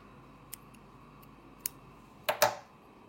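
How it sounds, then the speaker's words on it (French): Scissors snip through crochet yarn after finishing a small geisha keychain, a few faint isolated clicks followed by two louder, closer cuts near the end against a quiet room. "Je garde un peu de fil pour la couture et je coupe."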